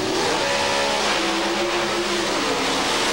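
Pro Stock drag race cars, including a Pontiac Firebird, launching at an NHRA final, a loud, sustained engine roar with a rising rev tone heard from a distance over crowd-like wash.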